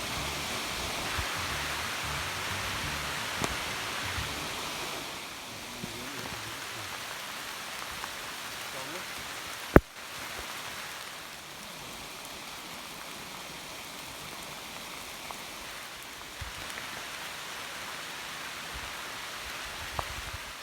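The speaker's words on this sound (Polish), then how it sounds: "I pada deszcz, ale jesteśmy w lesie." Steady rain falls on a forest at a stormy mountain pass, a dense, even patter on leaves and ground close around, broken by one sharp knock midway, with no talking.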